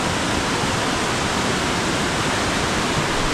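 Heavy monsoon rain and a flooded river rushing in rural Khed, Ratnagiri in Konkan, a dense, steady broadband roar of water that holds constant throughout with no voices.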